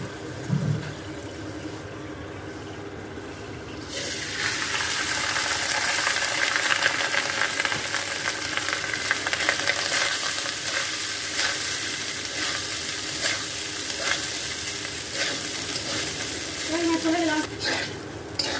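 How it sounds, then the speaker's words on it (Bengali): Cooked rice tipped into a pan of ghee-fried whole spices and stirred, a quiet start giving way to a loud, continuous sizzle with scraping and clinking of the utensil. "ভালো করে ভাতটা মিশিয়ে নেব।"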